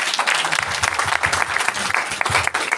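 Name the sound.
audience applause at Republic Day event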